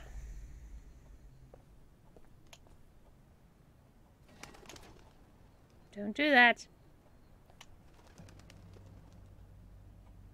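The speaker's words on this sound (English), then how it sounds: "Bird." A pigeon in the video game Observer gives a single short coo, clear and close, amid quiet ambient hum, with a voice speaking briefly elsewhere in the scene.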